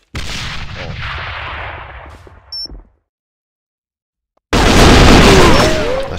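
A breaching charge in the online shooter Alliance of Valiant Arms fires a sharp, loud in-game blast, preceded by fading gunfire rumble and a short silence.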